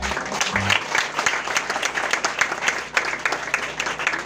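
Steady applause from a crowd at a Haitian wedding celebration, dense continuous clapping that stays loud throughout, with faint voices mixed in.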